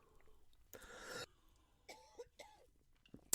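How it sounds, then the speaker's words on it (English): A person coughs in one harsh, breathy burst, then follows with a few short, throaty voiced sounds, all fairly quiet and close. "having a coughing fit"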